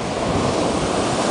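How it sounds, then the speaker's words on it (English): Strong Pacific Ocean waves on a beach make a loud, continuous roar of surf with wind noise throughout. "very strong. Very strong wave."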